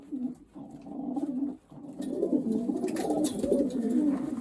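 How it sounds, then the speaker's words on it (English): Racing pigeons coo in a loft, a close, continuous layer of low, throaty rolling coos from several birds with one brief dip before the cooing swells again. "This pigeon is a double grandson of New Young Kittle"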